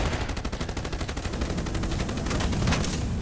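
Sustained rapid gunfire in the naval combat video game Age of Water, a loud, dense and continuous burst of shots that keeps up without a pause.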